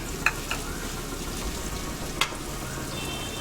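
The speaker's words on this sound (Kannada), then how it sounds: "ಎಲ್ಲ ಫ್ರೈ ಆಗ್ತಾ ಇದೆ." Ingredients for South Indian bagara rice, with mint added, fry in a pan, giving a steady close sizzle with a few sharp spatula clicks.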